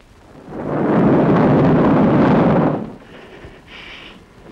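Thunder rumbles through a night storm, one long loud roll that swells, holds for about two seconds, then fades into quieter ambient noise with no one talking.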